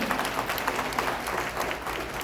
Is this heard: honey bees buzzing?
no